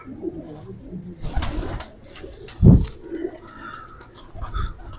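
Pigeons of a Rampuri and Hercules cross breed coo in a loft, soft repeated throaty calls with one louder burst near the middle, amid light background noise.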